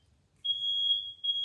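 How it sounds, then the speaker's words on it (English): A single piercing high-pitched smoke alarm beep, steady and loud, with a brief dip before continuing. "The smoke alarm in my house is very,"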